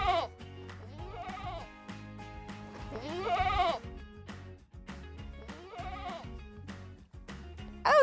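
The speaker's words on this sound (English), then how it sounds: "And finally, the goats." Goats bleat repeatedly at close range on a golf course, with loud wavering cries coming one after another against a low background rumble.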